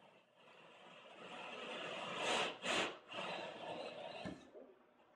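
A hole saw on a drill bores slowly through drywall during a flat-screen TV in-wall power kit install, giving a steady rasping, grinding cut with a couple of louder scraping bursts near the middle, close and moderately loud.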